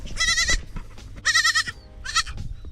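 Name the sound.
lost baby goat bleating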